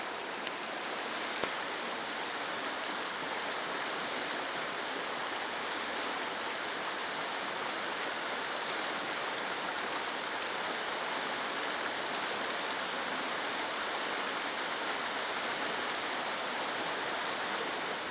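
A river flowing steadily at a crossing point in the woods, producing a constant broadband rush of water that stays even and close throughout with no voices.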